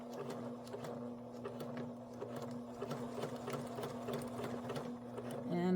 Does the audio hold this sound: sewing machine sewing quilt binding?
yes